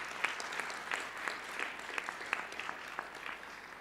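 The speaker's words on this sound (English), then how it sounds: "I think we should all give Emmanuel a big clap for this." An audience at a technical talk on CloudLab applauds a presenter, a faint, steady patter of many hands clapping from a distance with no voices over it.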